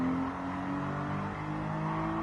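A Toyota Supra 3.0GT Turbo from 1988 in the video game Gran Turismo revs and accelerates under steady load, a continuous droning roar with rising harmonic whine, no voices.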